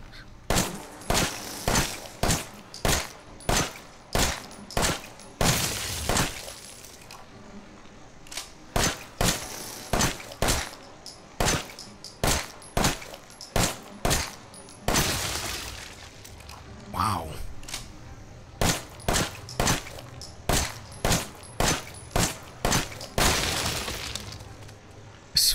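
Repeated gunshots in Resident Evil 7 as bugs are shot, dozens of sharp, loud cracks in uneven bursts with short pauses, and a player voice talking between them.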